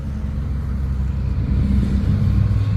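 A Hino 500 series 380 truck sits stuck and its engine revs hard, a loud, close, deep rumble that builds slightly louder toward the end, with no voices over it.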